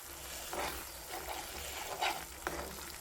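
A spoon stirs a paneer gravy in a pan, making faint scraping and soft sizzling bursts over a low background simmer.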